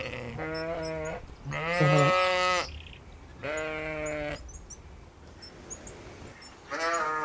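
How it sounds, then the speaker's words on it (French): Sheep bleating on an Alpine hillside during a mountain hike, several loud, wavering calls close by, one after another with short gaps, over a steady outdoor background. "on entend les moutons, ça y est, il y en a là."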